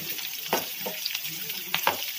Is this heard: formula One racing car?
no